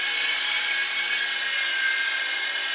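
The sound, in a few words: RC helicopter flying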